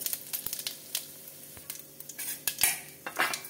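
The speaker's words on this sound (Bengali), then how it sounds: "দিয়ে দেবো সরষের তেল, ফোড়নে দিচ্ছি একটা শুকনো লঙ্কা, দেবো অল্প পাঁচফোড়ন" Dried red chili and panch phoron hit hot mustard oil in a pan, giving a bright steady sizzle with scattered crackles and pops and a few clinks of a stirring utensil, no voices.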